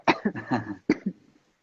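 A few short, harsh coughs in quick succession, close and fairly loud, then quiet.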